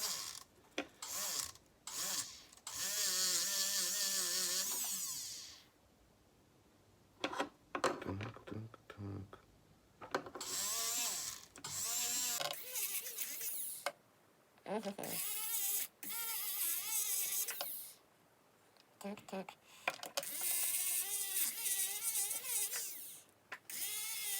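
A rotary tool cleans a coin dug up while metal detecting, working in a jeweler's workshop, giving repeated high whirring bursts that start and stop between pauses, with a voice talking in between.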